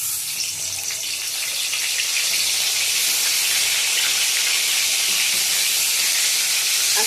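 Eggplant pieces fry in oil in a pan, giving a steady, loud, hissing sizzle that holds unbroken for several seconds with no talking.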